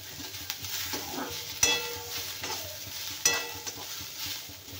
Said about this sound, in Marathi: तर इथे कांदा आपला थोडा गोल्डन झालाय, तर आणखी थोडासा भाजून घेऊया।